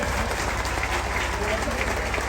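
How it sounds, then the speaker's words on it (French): Audience applause at a Haitian national police graduation ceremony, a steady dense crowd clapping filling the whole moment, with a voice speaking over it. "Veuillez les applaudir s'il vous plaît."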